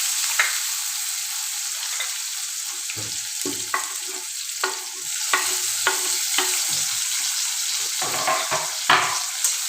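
Finely chopped tomato sautéing in a pan with curry leaves and a pinch of asafoetida, a steady close sizzle broken by repeated stirring scrapes, with no talking.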